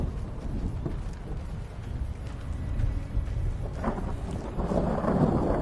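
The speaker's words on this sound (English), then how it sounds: "There's a nice big thunderstorm coming over." A thunderstorm rolling in within a video game: a continuous deep rumble of thunder with rain hiss, swelling louder and brighter toward the end, no voices.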